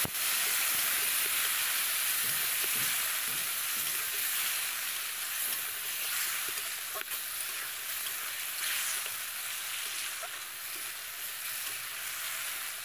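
Hand-ground spice paste for a cabbage dish sautés with a splash of water, giving a loud, steady steamy sizzle with faint stirring clicks underneath, slowly settling over thirteen seconds.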